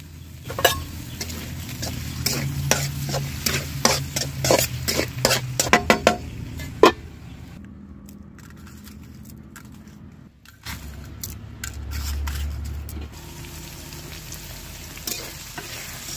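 Shapla water lily stems frying in a generous amount of oil, with a soft steady sizzle broken by clicking, scraping stirs of a utensil against the pan; no one speaks.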